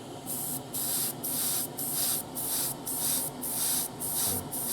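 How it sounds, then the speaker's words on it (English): An airbrush sprays Zero Paint Steel onto the forks of a 1:12 Tamiya Yamaha YZF-R1M model, with a steady series of about nine short, even hissing bursts, close and crisp over a low fan hum. "for this I'm using Zero Paint Steel, which again loaded up in the airbrush ready."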